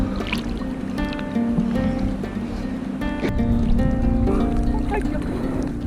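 Buffalo swim across a river carrying riders on Marajó, Brazil, with steady water sloshing and splashing around them while people talk and react excitedly over the churning water.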